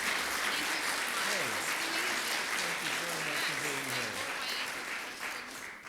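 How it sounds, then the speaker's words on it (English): An audience at a Rotary club meeting gives a speaker a warm round of applause, sustained clapping that fades slightly toward the end while a voice talks over it. "Let's give her another warm round of applause."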